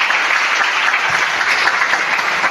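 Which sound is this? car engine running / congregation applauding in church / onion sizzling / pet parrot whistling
congregation applauding in church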